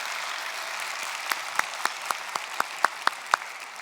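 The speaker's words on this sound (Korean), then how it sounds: "우리 청년들을 위해서 우리 박수를 쳐야 돼요." A church congregation claps during a sermon, starting as a soft murmur and building into a run of evenly spaced, moderately loud claps in a steady rhythm, heard in a reverberant room with no talking.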